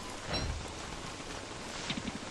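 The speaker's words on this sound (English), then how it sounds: "This is insane how much rain I'm getting right now." Steady rain falls in the video game Don't Starve: Reign of Giants, a dense even hiss of drops with a couple of brief louder rustles, no voices.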